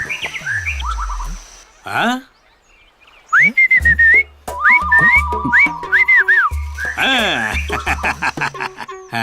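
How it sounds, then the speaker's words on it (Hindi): Sharp, pitched whistling comes in bursts of short rising and wavering notes, one long steady tone among them, over a comedy scene with music and a few bass thumps. "आपने सीटी क्यों बजाई?"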